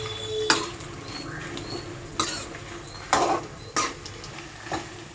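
Dried red chillies fry and get stirred in a pan, with a soft sizzle under scattered metallic scrapes and clinks of a spoon against the pan.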